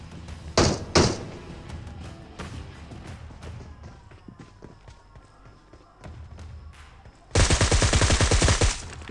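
Gunfire in PUBG Mobile: two sharp bursts of shots early on, followed by a longer rapid volley of repeated shots near the end, with quieter game sounds in between.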